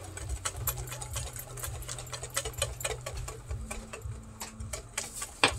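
A hand whisk beats crepe batter in a bowl, making a quick, continuous series of light clicking taps. The taps are close but fairly quiet, with no talking.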